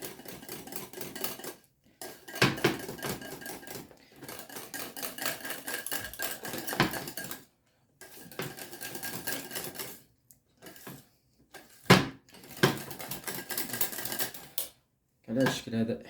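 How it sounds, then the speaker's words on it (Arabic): A whisk clinks and scrapes against a bowl while stirring a chocolate mixture for a flourless chocolate coffee cake, in rhythmic bursts broken by short pauses, fairly close. "غادي نحركوه بالفوي باش تخفف لينا لاباري"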